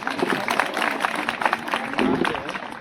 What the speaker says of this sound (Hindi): अगर शायरा दीदी की प्रस्तुति पसंद आई हो तो तालियां बजाइए।